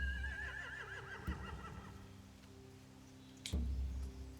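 Horses whinnying in The Walking Dead video game, a wavering high neigh at the start followed by a snort or stamp around the middle and another burst near the end, over a low ambient hum.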